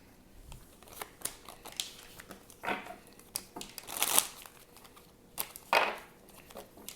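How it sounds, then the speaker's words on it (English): Tarot cards gathered up from a floor, heard as a few scattered soft slides, taps and papery shuffles spread unevenly and fairly faint, with quiet gaps between them. "Let me get these cards off the floor."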